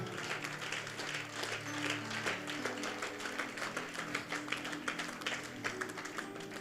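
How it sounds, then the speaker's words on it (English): A church congregation claps along during a sermon, steady moderate applause of many hands filling the space, with a low musical tone sustained underneath. "Clap your hands if you can."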